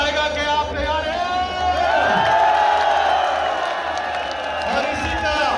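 A large crowd at an outdoor political rally roars and whoops in a continuous loud swell, with sustained shouting voices and cheering layered over a droning background.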